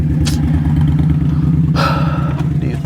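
Motorcycles rev loudly close by on a summer street, a steady deep engine drone with sharp throttle surges cutting through.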